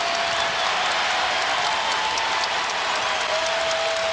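Basketball arena crowd applauding at a 2009 North Carolina versus Duke senior night game, a steady dense wash of clapping and crowd noise filling the whole moment without a break.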